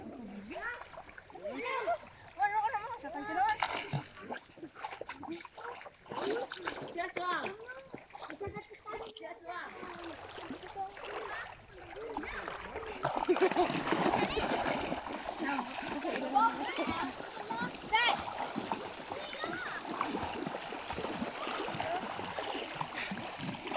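Children splashing as they bathe and swim in a river, continuous watery splashing that grows busier partway through, mixed with kids' chatter and adult voices nearby.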